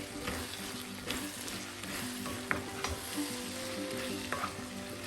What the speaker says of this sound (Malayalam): മസാലയെല്ലാം ഈ കൊട്ടച്ചവിലൊന്ന് പിടിക്കട്ടെ അതുവരെ നമുക്കൊന്ന് വഴറ്റാം